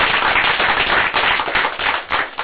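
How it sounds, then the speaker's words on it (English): A school board meeting audience applauds the parents, a dense, loud, steady round of clapping throughout with no talk over it. "if we would give the parents a little round of applause"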